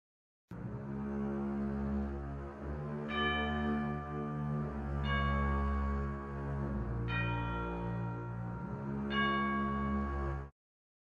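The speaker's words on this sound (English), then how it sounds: "the tubular bells are echoing the melody played by the basses" Deep resonant tubular bell tones strike one after another at a slow, even pace, each note ringing and sustaining into the next with long overtones.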